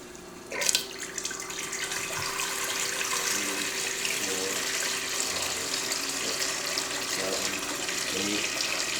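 A battery-operated FN 901-A fluid pump pushes out water in a steady, splashing gush that runs continuously after a brief startup burst, with faint voices in the background.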